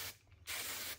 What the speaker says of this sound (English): finish with shine spray and then lock this in with hairspray